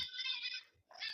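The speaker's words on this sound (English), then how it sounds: "I hear a cat. That's a cat." A cat lets out a long, sharp meow, pauses briefly, then starts another, close and clear against a quiet background.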